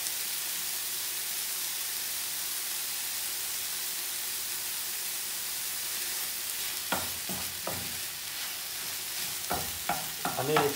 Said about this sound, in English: I like to cook the mince first